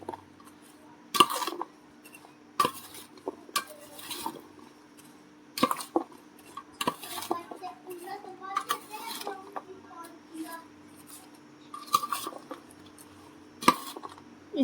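Mango pickle ingredients are stirred by hand in a bowl, giving irregular knocks, scrapes and squelchy bursts spaced a second or so apart over a faint steady hum, close and fairly quiet.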